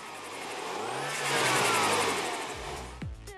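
A MINI John Cooper Works engine with sports exhaust revs and accelerates, its pitch climbing to a loud peak before easing off, ending with a sharp throttle blip and burble, no voices present.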